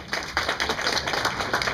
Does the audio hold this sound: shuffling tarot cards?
no